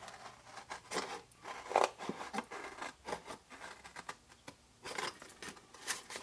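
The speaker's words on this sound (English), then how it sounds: "If you're brave like me, go straight in for scissors." Scissors snip through card stock in a papercraft session, a series of short, fairly quiet cuts and rustles with paper handling between them, no talking.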